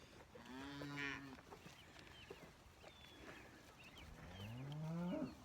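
Cattle mooing on a farm around a Ranger utility vehicle, two drawn-out nearby lows at the start and end with fainter calls and bumps between, no talking.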